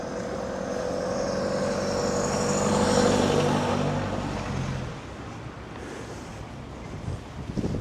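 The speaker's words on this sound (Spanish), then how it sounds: "espero que el aire no me interfiera tanto cuando tengo que comunicarles algo del video" Outdoor wind buffets the microphone in a Cuban street, a loud, rumbling roar that swells and eases over several seconds with no speech.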